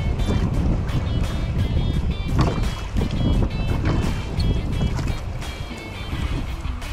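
A rowboat is pushed off into the water with continuous splashing, sloshing and scraping, loud and close for several seconds and joined by some wind.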